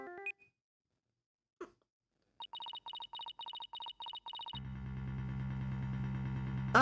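A phone rings in the video game Apollo Justice: Dual Destinies, with a quick series of short electronic beeps in a steady rhythm, then a louder continuous tone with a low hum underneath.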